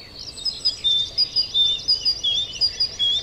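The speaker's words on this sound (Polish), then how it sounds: "Bogatka posiada bardzo bogaty zestaw wydawanych dźwięków." A great tit sings nearby, repeating short, very high two-note phrases in a steady rhythm over soft background hiss.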